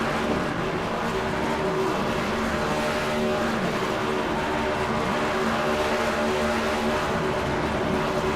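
A race car in the iRacing video game at Sonoma does a burnout, a continuous loud engine roar with tire squeal sustained throughout, with no speech.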